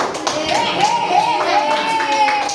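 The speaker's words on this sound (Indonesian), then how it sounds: "Tepuk tangan dulu" Students in a classroom lesson clap their hands together in a burst of applause, sharp overlapping claps under a voice that rises and falls through the clip.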